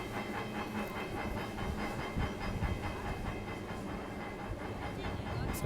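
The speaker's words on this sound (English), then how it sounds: "the Peak tram's going to come into the station" The Peak Tram, a cable tram, rumbles and hisses steadily nearby as it comes into the station, with rhythmic clicking from the rails and cable, a continuous mechanical drone throughout.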